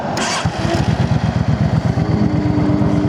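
Yamaha V Star 650 Classic XVS65AWC cruiser motorcycle cranking and catching, then settling into a loud, close, rhythmic V-twin idle that pulses steadily.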